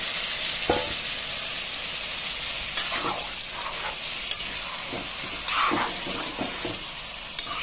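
A fried spice paste with a few lentil dumplings sizzling in a pan after a little water goes in, for a fish and eggplant dish, with a loud continuous hiss and repeated stirring scrapes, no voices.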